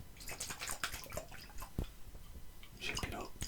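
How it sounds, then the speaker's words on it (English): Hot water poured into a hexagon glass honey jar to melt the leftover honey, with splashing and dripping and small glassy clinks in short bursts, quiet and close, under soft speech. "So a bit of hot water"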